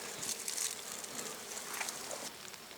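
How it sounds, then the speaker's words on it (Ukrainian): Bees buzz steadily over a flowering rapeseed field, a dense, continuous hum with no pauses, fairly close and even in loudness throughout. "Тому що тут бджоли."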